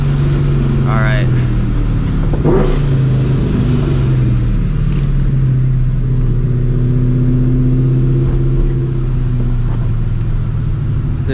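A supercharged New Edge Mustang GT fitted with long tube headers accelerates gently, its loud, deep exhaust drone running steadily under someone talking.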